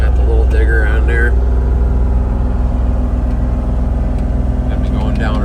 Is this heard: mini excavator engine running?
yes